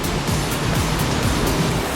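Ocean waves wash onto the beach at Lenggoksono in South Malang, a loud, steady roar of surf with a broad rushing hiss and no talk.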